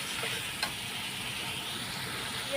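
Curry being sautéed in a pan in a Bengali home kitchen, giving a steady, even sizzle and hiss close up with a faint clink partway through and no talking.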